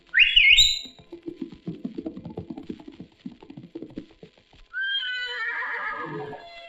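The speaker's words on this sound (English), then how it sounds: "There we found a beautiful black stallion." A black stallion gives a loud, shrill neigh up close, then hooves clop in an uneven rhythm, and a second whinny rings out near the end.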